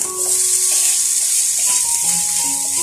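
Garlic and ginger sautéing in a pan for a Malayalam-style spinach thoran: a steady, close, continuous sizzle with faint scraping and a few stirring clinks, and no one talking.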